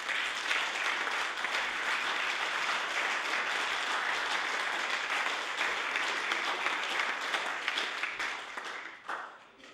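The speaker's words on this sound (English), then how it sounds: "receive a warm round of applause from" Members of a provincial legislature, the Nova Scotia House of Assembly, give a warm round of applause to guests in the gallery. Steady, dense clapping from many hands fills the chamber, sustained throughout and tapering off at the very end, with no talk over it.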